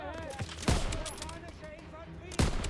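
Bursts of gunfire ring out while shooting enemies in the World War II shooter Call of Duty WW2, two sharp loud shots standing out amid game sounds and someone talking.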